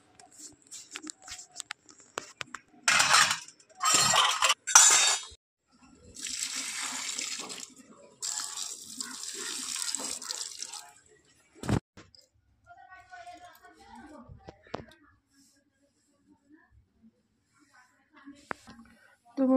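Water poured in splashing bursts while a small Gopal idol is bathed, close and fairly loud, with gaps of quiet and a little talk between pours.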